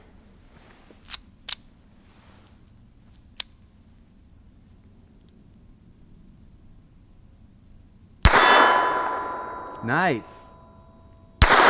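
A Colt 1908 pistol loaded with 25 ACP fires a few sharp, close single shots with gaps between them, mixed with clicks and handling noise, and a short spoken remark.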